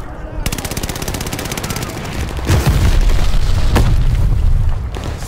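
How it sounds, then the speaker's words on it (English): A Call of Duty: Vanguard match with a glide bomb incoming: steady rapid automatic gunfire runs throughout, then heavier low booming impacts swell from about the midpoint and rumble on loudly to the end. "glide bomb on the way."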